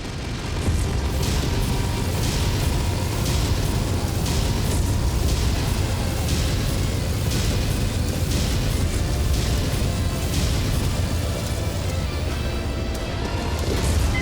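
Incoming missile barrage in the MechWarrior video game, a continuous loud roar of overlapping explosions and rumbling blasts with sharp cracks throughout.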